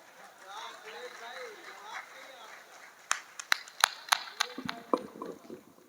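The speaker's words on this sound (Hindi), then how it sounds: "तालियां वाकई कमजोर है, जोरदार ताली बजाइए" Scattered, thin handclaps from an audience at a Hindi comic poetry recital in Allahabad, a handful of sharp claps bunching near the middle and end, heard beneath a man's ongoing speech.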